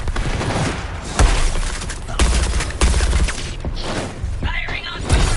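Support gunfire in the video game Suicide Squad Kill the Justice League rattles as dense, loud volleys with mechanical clanks and thumps, sustained across the whole stretch.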